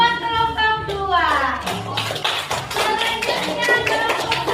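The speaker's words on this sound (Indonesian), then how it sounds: "Tepuk tangan dulu buat kelompok 2." Classroom applause for a student group, many hands clapping in a dense, steady patter throughout, close and lively, with a voice speaking over the start.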